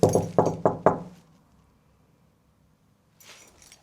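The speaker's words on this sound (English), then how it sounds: "So they always knock just to make sure." Knocking on a rented room door, four firm knocks in quick even succession, loud and close, followed by quiet and then faint rustling near the end.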